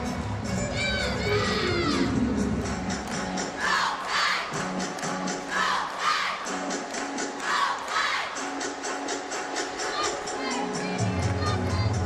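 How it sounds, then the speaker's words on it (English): Loud, sustained crowd cheering and shouting fills an Alabama arena during an LSU vs Alabama college women's gymnastics meet, with high-pitched yells and screams from many fans rising and falling continuously throughout. "the crowd's cheering so loud you can't even hear the cheer"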